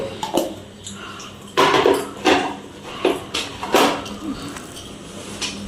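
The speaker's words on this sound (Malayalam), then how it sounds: "ഇഞ്ചി വെളുത്തുള്ളിയും പച്ചമുളകും ചതക്കാൻ വേണ്ടി പോകും ബിരിയാണിക്കുള്ള" Irregular heavy thuds of ginger, garlic and green chilies being pounded in a mortar for biryani, close by, with clinks and knocks of kitchen utensils between strikes.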